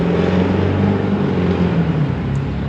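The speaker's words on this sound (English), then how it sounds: "Really appreciate you hanging out and putting up with all the traffic noise." Road traffic along Broadway with a car accelerating, a loud, close engine rumble and whir that holds steady and eases slightly toward the end, no voices.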